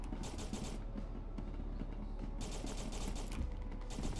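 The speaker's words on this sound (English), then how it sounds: "Why are people shooting?" Rapid bursts of gunfire in the SCP: Secret Laboratory video game, sharp repeated clattering shots in clusters separated by brief gaps, loud over a steady background rumble.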